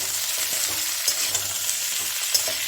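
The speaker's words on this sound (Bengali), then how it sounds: "একসঙ্গে আলু আর সজনের ডাটা একসঙ্গে একটু ভেজে নেবে" Potatoes and drumstick pieces fry together in a pan with a constant close sizzle and faint crackles over the short stretch.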